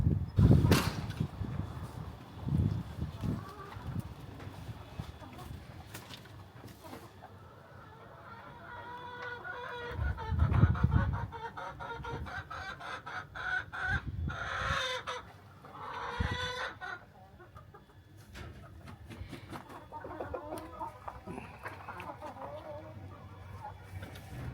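Big chicks in their new straw-lined coop with a lamp make frequent nearby clucks and chirps in irregular bursts, with a few louder squawks and short rooster-like calls among them.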